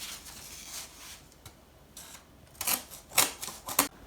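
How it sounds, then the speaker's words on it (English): Several short, crisp snipping bursts of scissors cutting paper, sparse at first and then quicker and louder near the end, with no talking. "So I've drawn another pattern and I'm going to cut that pattern out."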